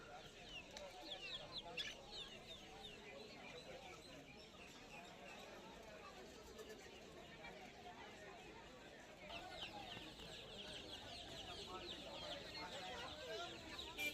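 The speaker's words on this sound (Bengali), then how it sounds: "এখানেও কিছু ফাইটার মুরগির কালেকশানগুলো বন্ধুরা দেখে নাও খালি" Fighter chickens cluck and squawk continuously at a busy street pet market in Kolkata, with many birds close by and people talking throughout.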